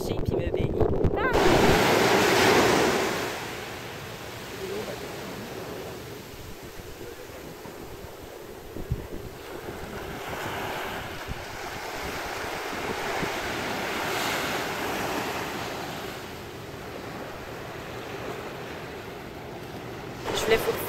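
Ocean waves wash onto a beach in Hawaii, a steady rushing surf with wind buffeting the microphone and brief bits of talk.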